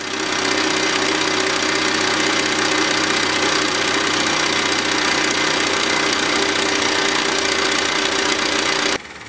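A Jensen 25G toy live steam engine runs hard with its generator disengaged, a loud, close, steady mechanical drone and chattering whir that holds for about nine seconds before cutting down abruptly near the end.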